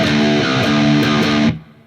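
A distorted electric guitar plays bar 4 of a riff, a short loud chugging phrase of a few heavy notes that cuts off abruptly.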